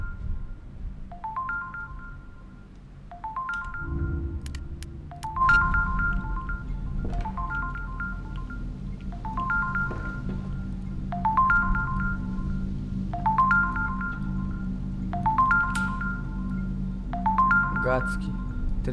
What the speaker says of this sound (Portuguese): tem como alguém parar essa porcaria desse telefone chato